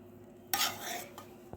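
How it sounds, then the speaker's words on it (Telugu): Tamarind rice (pulihora) is mixed by hand or spoon in a vessel, giving one short, close burst of scraping and rustling that tails off, with a faint steady hum underneath. "ఈ విధంగా మొత్తం రైస్ అయితే ఇట్లా కలుపుకోవాలి మొత్తం కలిసేదాకా"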